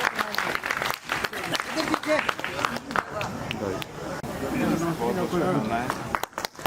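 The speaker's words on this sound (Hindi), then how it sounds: "एक बार जोरदार तालियां" Applause from a crowd at a Louis Braille Day ceremony at a school for the blind: a burst of clapping near the start, then voices and crowd murmur carrying on through most of the clip.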